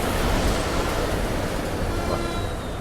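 Strong wind roars steadily past a moving bus on a hill road in the rain, a dense, loud rushing with no speech.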